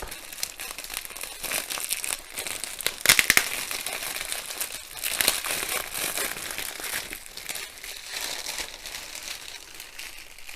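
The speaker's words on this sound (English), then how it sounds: "So just a simple plastic bag, and that is it. So we'll open it up." Crinkly plastic rustling and crackling up close as a bag is handled and pulled open, with a few sharper crackles midway.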